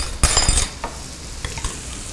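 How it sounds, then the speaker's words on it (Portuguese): Onion and garlic fry in a pan, a loud close sizzle with spoon-against-pan stirring and clinks at the start, easing into a softer continuous hiss. "Aqui o mesmo processo, a gente deixa ela fritar"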